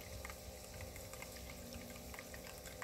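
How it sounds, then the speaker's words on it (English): Water trickling through a small dual-power LED water fountain from Walmart, a faint, steady, bubbling flow that runs without a break and without talk. "Can you hear the sound of the water flowing?"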